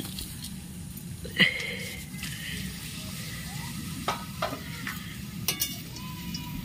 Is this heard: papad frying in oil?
yes